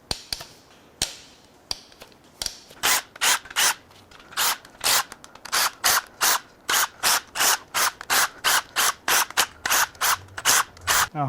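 A ratchet loosens the tower bolts on a Nissan VC-Turbo engine that failed at 98k miles. A few slow clicks speed up into a steady run of sharp, close ratcheting strokes.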